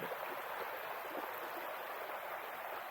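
A river flows along the bottom of a rugged canyon on a hiking trail at Clifty Falls, Indiana, heard as a steady, soft rushing wash with no voices.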